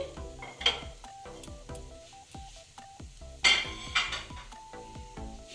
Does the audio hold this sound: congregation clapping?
no